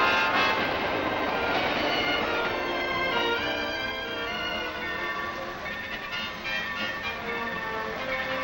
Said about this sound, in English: Air brakes gently slow our train